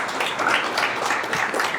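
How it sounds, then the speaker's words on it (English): Audience applause greeting a speaker at a security conference talk on open source intelligence; a steady, dense patter of many hands clapping fairly close, running the whole short stretch without talk. "Please give him a round of applause."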